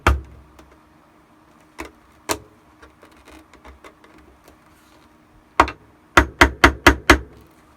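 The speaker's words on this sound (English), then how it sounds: "just pounding on the ends of the split rivet to get it to lay flat against the washer" A hammer pounds the ends of a split rivet flat against a washer on a Shadow Trooper armor build, with scattered sharp taps and then a quick run of five loud, evenly spaced blows near the end.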